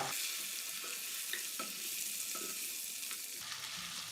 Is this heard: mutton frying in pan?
yes